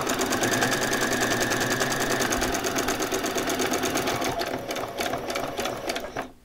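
A sewing machine runs steadily while stitching a t-shirt with a zigzag stitch, a fast dense mechanical whir that continues loudly and evenly, then stutters near the end for a short back stitch before stopping.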